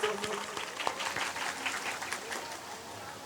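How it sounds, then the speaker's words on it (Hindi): An audience at a spoken religious gathering breaks into loud applause, a dense burst of clapping that is strongest at the start and then holds steady, with some voices mixed in. "इनके लिए जरा ताली बजा दो जोरदार सभी लोग"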